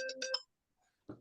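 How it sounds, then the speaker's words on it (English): A mobile phone ringtone goes off during an online meeting with screen sharing: a short, bright melodic burst of a few notes lasting under half a second, followed by silence and then a brief low thump. "That's my phone, sorry."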